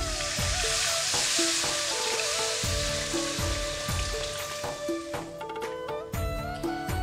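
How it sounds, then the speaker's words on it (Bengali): Water poured into a hot pan of boiled potatoes for pabda fish curry gives a loud, continuous hiss and sizzle, broken by crackles and bubbling pops, close and steady. "এবারে আমি ঝোলের জন্য জল দিয়ে দিচ্ছি।"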